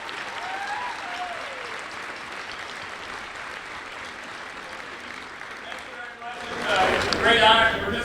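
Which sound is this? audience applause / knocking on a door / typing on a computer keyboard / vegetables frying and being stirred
audience applause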